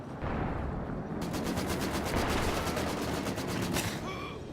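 Rapid infantry gunfire in a World War II tank strategy video game, dense crackling bursts and rattling automatic fire rolling continuously at close range.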